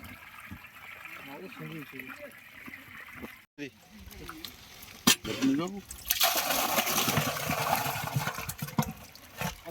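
Water pours and splashes out of a tub used to hold caught magur catfish at a village pond, a broad rushing wash that swells loudly in the last few seconds after speech and handling noises earlier.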